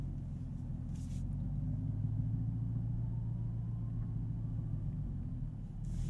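A 2023 Camaro ZL1 with a 10-speed automatic backs slowly out of a parking space, its engine a low, steady idling rumble heard close and continuous, with a couple of faint clicks.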